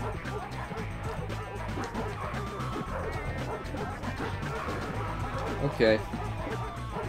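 A dog barks in the side-scrolling action game Three Dirty Dwarves, short yips set among game music and effects with a louder burst near the end, while someone talks briefly over it.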